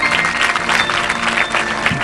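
Sustained applause from a church congregation, many hands clapping together in a loud, steady roar with faint individual claps standing out and a low hum underneath.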